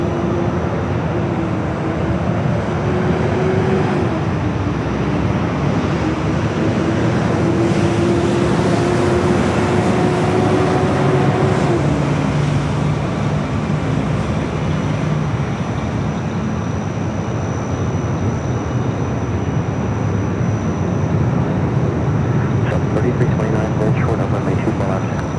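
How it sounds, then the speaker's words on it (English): At LAX, a KLM airliner takes off toward Amsterdam from the north side, a broad sustained jet roar that swells and holds under a commentator's talk, with steady background rumble throughout. "KLM heading over here to the north for a north side at takeoff to Amsterdam."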